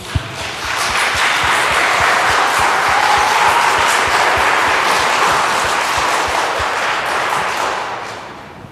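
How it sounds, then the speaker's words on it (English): Audience applause at a Lutheran school event swells quickly and holds as a steady, dense wash of clapping for about eight seconds before tapering off at the end. "So if we can give her a big round of applause."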